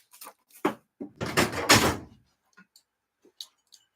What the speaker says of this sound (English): So, pop this drawer open, get it into here.